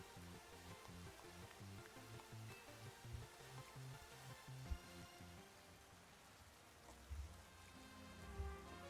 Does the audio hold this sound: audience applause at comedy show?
no